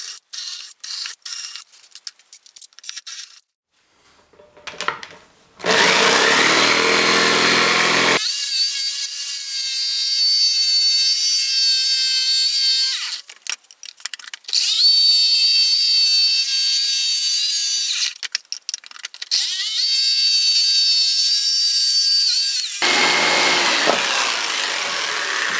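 A jigsaw buzzes loudly through the wooden cabinet of a Kalamazoo Model Two guitar amp in long continuous runs, pausing briefly between cuts before starting again, close by.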